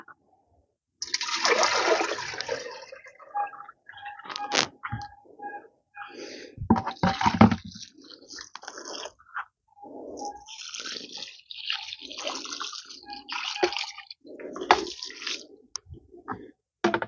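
Liquid fertilizer pours and splashes in uneven bursts onto wet grapevine potting soil, trickling and dripping between pours, with no talking.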